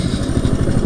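A Coleman CT200U-EX minibike engine running steadily and close, giving off a loud, continuous rumbling drone.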